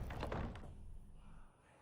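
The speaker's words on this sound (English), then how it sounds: "The key fits, you unlock the door." A door is unlocked and opened in the Arkham Horror game: quick, quiet clicks and a knock-like thunk at the start, then a soft creaking swing that fades out.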